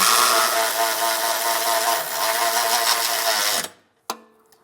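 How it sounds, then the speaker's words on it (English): A power tool with a 17mm socket snugs down half-inch bolts on an EcoHitch hidden Class III trailer hitch on a 2023 Kia. It whirs loudly and steadily for several seconds, cuts off, then gives one sharp click. "I'm going to be using a 17mm socket. We're going to get these snug down."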